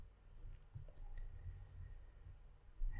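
A single faint computer mouse click near the start, close and soft, over quiet low hum on a PC.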